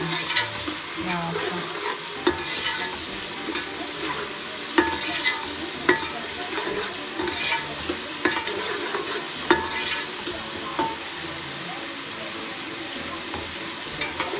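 Carrots, peas and potatoes frying for vegetable pulao, a steady sizzle with repeated scraping clinks of a spoon stirring the pan.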